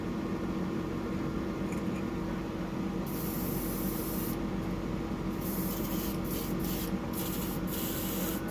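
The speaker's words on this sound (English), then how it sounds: "Okay, so I'll just clean out the old airbrush there." Old airbrush being cleaned out, giving a steady continuous hiss of spray that runs through the whole stretch with brief gaps and bursts in the upper hiss, close and fairly loud.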